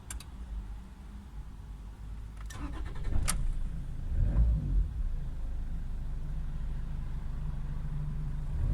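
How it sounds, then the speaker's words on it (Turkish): A Toyota Corolla engine cranks briefly after a few clicks, catches and settles into a low, steady idle, heard up close. "aracı çalıştırıyoruz arkadaşlar."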